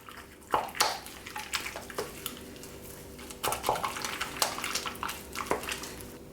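Choux pastry dough being mixed in a bowl as eggs are beaten in one at a time: wet slapping and squelching strokes in uneven bursts, close and moderately loud.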